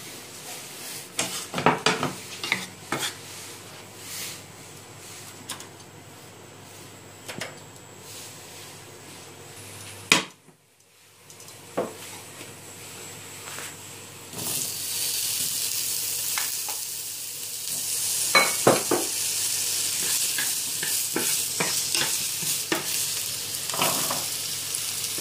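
Garlic frying in oil for a vegetable sauté pasta, with utensil clinks and stirring knocks at first, then a loud, steady hissing sizzle that builds and holds through the second half.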